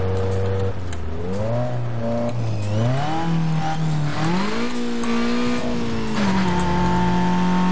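A car engine revs loud and steady in the video game Need for Speed Most Wanted, with its pitch climbing and dropping through gear shifts, and no voices.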